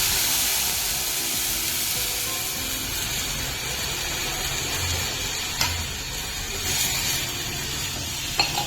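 Continuous sizzling and bubbling as water is poured into hot oil with cumin and turmeric, steady and fairly loud, with a couple of sharp clinks near the end.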